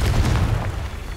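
Confringo fire spell cast in Hogwarts Legacy, a loud, rumbling magical blast that swells at once and then rolls on as a deep, sustained boom through the whole moment, with no voices over it.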